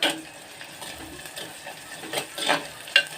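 Onions and curry leaves fry in a clay pot with a soft, close sizzle, broken by light clinks and scrapes of a utensil against the pot.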